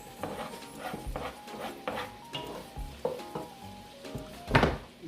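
Onions go into a frying pan holding cooked shrimp and meat for green fried rice, sizzling up with a burst of stirring and utensil scrapes against the pan, loud and close with sharp clatters near the end.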